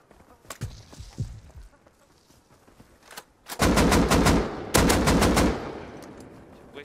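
Gunfire in the game Rust: a few scattered single shots, then two loud, rapid automatic bursts close by, each lasting under a second.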